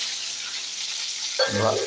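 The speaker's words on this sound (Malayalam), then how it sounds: "കടുകൊന്ന് വറുത്ത് നമുക്ക് നമ്മളെ കപ്പയിലേക്ക് ഒഴിക്കണം" Mustard seeds frying in hot oil for a tapioca dish, a steady bright sizzle with a sharper crackling burst near the end, close and alone.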